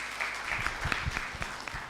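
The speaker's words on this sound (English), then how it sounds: "A better clap, please." Audience applause at a conference on World AMR Awareness Week: a brief burst of steady, moderately loud clapping from many hands in a hall, with no voices over it.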